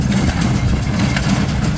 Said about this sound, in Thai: ใช้รถไถคูบูต้า